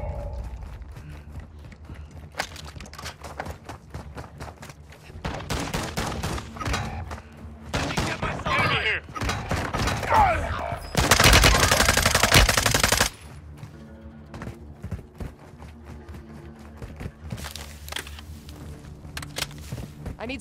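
Machine-gun bursts and rapid gunfire in Warzone 2.0 come in loud clustered volleys, with a long sustained burst near the end, over lighter scattered shots.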